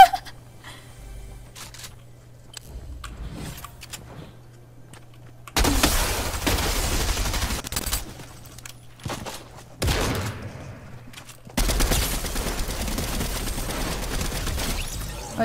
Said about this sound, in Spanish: disparo mejor cuando no tengo mira